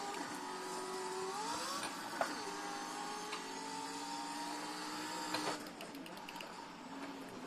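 A Pro 4 off-road truck engine in the iRacing video game at the Crandon short course in Wisconsin, droning steadily with rising and falling pitch as the truck accelerates and shifts, alone and fairly consistent in level.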